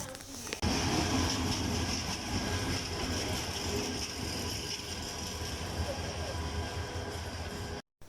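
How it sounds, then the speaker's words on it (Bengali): The Paharika Express pulling into Cumilla railway station, a loud continuous rumble of wheels and carriages with rhythmic clanking and mechanical rattle that runs close and steady for several seconds before cutting off abruptly. "এখন যে ট্রেনটি আসতেছে দেখতেছেন, এই ট্রেনটি হচ্ছে পাহাড়িকা এক্সপ্রেস ট্রেন"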